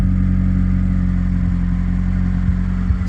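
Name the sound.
Toyota Matrix engine running with new exhaust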